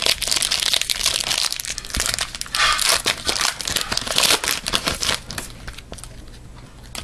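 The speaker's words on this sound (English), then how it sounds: "You can hear it crack every time I peel a card." Stuck 1992 Series 2 Parkhurst hockey cards are peeled apart by hand, giving loud, close crackling and crinkling with sharp snaps as each card separates, continuous and without speech.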